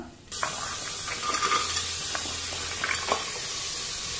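Potatoes and mixed vegetables tipped into a pot and stirred, giving a steady soft sizzle with scattered clinks and scraping knocks throughout.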